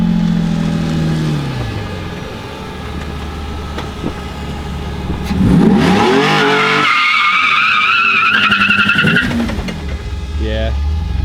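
A BMW E34 with a V12 engine revs hard and breaks its tires loose, giving a loud engine roar that rises to a sustained screech, then the revs sag. People talk over the sound throughout.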